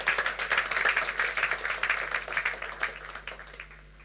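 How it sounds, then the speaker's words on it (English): Audience at a corporate bank presentation breaking into steady applause, many hands clapping together at moderate loudness, then tapering off toward the end. "that deserves a round of applause"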